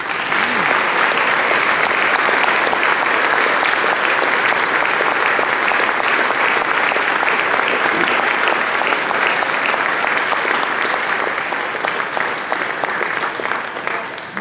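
Sustained applause from a concert audience at a school district's alumni instrumental music concert in West York, steady dense clapping holding loud for the whole stretch with faint voices mixed in.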